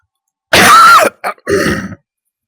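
A single throaty cough comes first, followed by a short grunt and a second rough throat-clearing, loud and close, with no talking.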